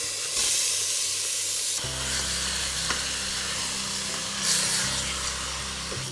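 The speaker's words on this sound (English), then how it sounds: "In goes the marinated lamb" Marinated lamb, coated in a thin layer of yogurt, hits hot fried onions for a Punjabi lamb curry. It sizzles loudly and steadily, with scraping and stirring strokes in the pan and no voices.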